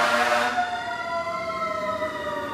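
Emergency vehicle sirens wail steadily with rising and falling tones, fairly distant, continuing alone without any talking.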